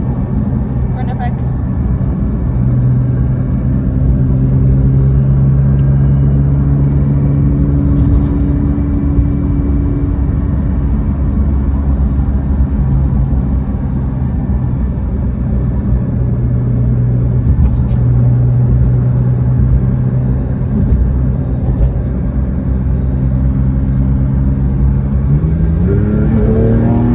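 A Porsche 992 GT3 pulls away on a test drive, its engine note climbing in steady tones and settling back, loud and close from inside the car, with a voice speaking over it.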